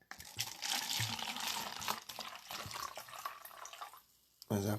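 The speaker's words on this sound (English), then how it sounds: "as I pour up a glass of red wine" Red wine poured into a glass: a steady, close liquid stream runs for about four seconds, softening toward the end, then a brief burst of voice closes the moment.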